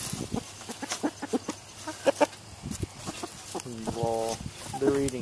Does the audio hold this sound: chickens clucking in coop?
yes